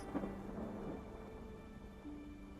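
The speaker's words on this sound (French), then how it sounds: "tu entends petit à petit que dans le courant de la nuit, l'orage s'éloigne" Thunder from a storm moving away rumbles low and steady beneath a faint rain-like hiss, forming tabletop RPG ambience with no voices.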